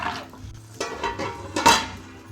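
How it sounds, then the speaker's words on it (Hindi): A lid set down onto a cooking pot of simmering aloo palak, heard as a few close metallic clanks and scrapes over a faint bubbling background. "ढक्कन बंद कर देते हैं"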